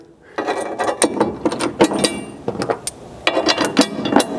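A hand ratchet tightens bed stiffener bracket bolts on a second-generation Chevy Colorado pickup, giving quick clicking bursts in short irregular runs with brief pauses between strokes, close up and with no talk.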